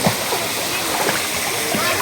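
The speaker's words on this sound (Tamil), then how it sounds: "இதுதான் சித்தார்குண்டு வாட்டர் ஃபால்ஸ்." Siddharkundu waterfall running with low flow, a steady splashing wash of falling water close by under a person talking.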